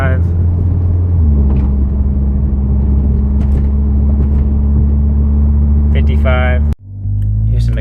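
Cabin view of a car fitted with a Ralliart Ultimate Racing exhaust: a steady low drone at cruising speed rises to a stronger hum as it accelerates, then a sharp cut and a brief higher tone near the end.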